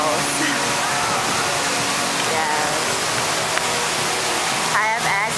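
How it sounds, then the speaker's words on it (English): The Manu waterfalls roar with a constant, loud wash of rushing water, a dense, unbroken hiss with no pauses from start to finish. "my background is the waterfalls, the Manu waterfalls"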